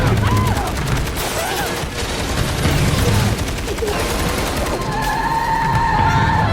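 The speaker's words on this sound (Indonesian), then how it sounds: "tiba-tiba sebuah mobil melintas di depan mereka dan melepaskan beberapa tembakan yang mengenai tubuh Hannah" Gunshots fired from a passing car in a film scene, a loud dense burst of rapid gunfire mixed with crashing effects and background score.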